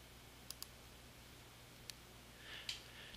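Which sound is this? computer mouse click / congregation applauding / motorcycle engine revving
computer mouse click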